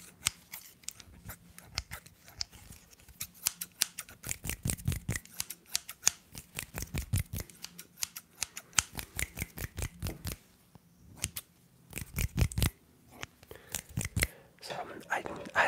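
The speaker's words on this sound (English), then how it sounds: "Oh, I do have a pair of scissors. They're kind of terrible scissors," Cheap scissors used as an ASMR trigger give a long run of close, crisp snipping and rustling, quick and rhythmic at some points and sparser at others, with soft whispered talk mixed in.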